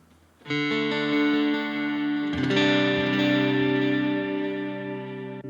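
Sustained electric guitar chords through a Sonicake Pocket Master plate reverb preset ring out with a smooth, bright reverb tail, a second strum midway blooming and slowly decaying.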